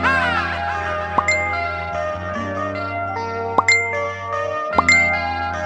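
Bright Facebook message notification dings ring out three times at steady intervals over a sustained musical backdrop.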